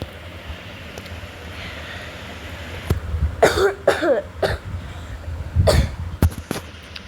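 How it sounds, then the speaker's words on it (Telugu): Several rough coughs from one person, close and loud, coming in two bunched bursts after a few seconds of quiet room noise. "కొంచెం కాఫ్ ఉంది గైస్."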